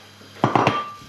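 Mushrooms tipped into a hot frying pan for dry frying, giving three quick close thuds and clatters against the metal in rapid succession, with a faint sizzle lingering after.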